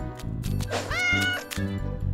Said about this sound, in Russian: Это очаровательный котенок!